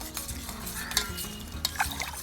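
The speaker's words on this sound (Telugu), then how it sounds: "గిన్నెలోకి కొంచెం బెల్లం తీసుకొని బాగా కరిగేటట్టు కలుపుతూ ఉండాలి." Jaggery being stirred into water in a bowl while it dissolves: a continuous scraping, swishing stir with a few brief louder clinks, close by and moderately quiet.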